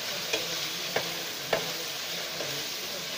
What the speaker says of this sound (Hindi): अब इसमें डालते जाएंगे और हम इसको फ्राई करेंगे। इसको अच्छे तरीके से साथ मिक्स करेंगे